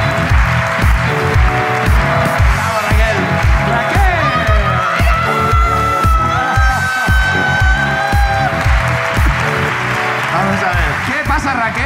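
A live comedy podcast audience applauds and cheers as a comedian walks on stage, loud clapping mixed with whoops and shouts, while a steady rhythmic music beat pulses underneath and voices call out over it.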